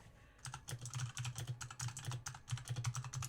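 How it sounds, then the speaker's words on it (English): Rapid typing on a computer keyboard, close and fairly quiet, with uneven bursts of sharp key clicks and short pauses between them. "I don't know why I'm typing in text."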